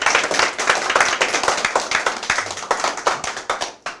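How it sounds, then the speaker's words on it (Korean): An audience at a lecture claps together in a steady, rhythmic burst of hand claps, loud and close, tapering off at the end. "박수 한번 치겠습니다"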